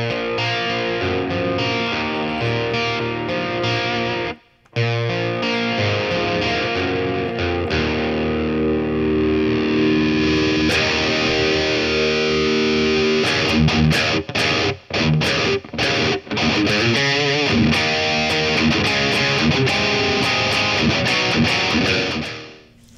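Distorted electric guitar through a BOSS Katana MK2 amp with chorus engaged plays sustained, thick chords and riffs with brief stops, loud and alone.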